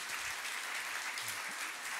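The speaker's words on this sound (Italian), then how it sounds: "Credo che in una location così meriti un applauso, come merita un applauso Silvia Nicolis." Audience applause at a business event held in a museum venue, a continuous wash of clapping heard fairly faint and distant, with a few low murmurs underneath.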